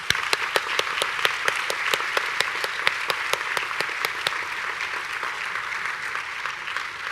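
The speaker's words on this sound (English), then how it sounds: "I'd love to have you welcome them with a round of applause" An audience at the 2018 Ohio State College of Optometry White Coat Ceremony gives a sustained round of applause, dense and steady claps ringing out close and loud before tapering slightly toward the end.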